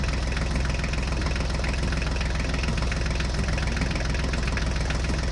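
John Deere and HMT tractor engines run steadily at idle, a dense, loud, knocking diesel chug that holds unchanged throughout with no voices.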